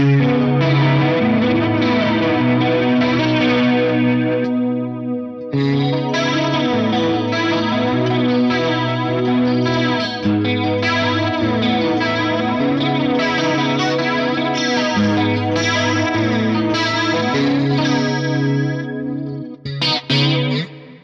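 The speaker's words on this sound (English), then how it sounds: "there's also the option to add a flanger." Electric guitar playing sustained chords through an Axe-Fx III with a sweeping flanger, with a brief break near five seconds and a choppy ending; steady, loud, no voices.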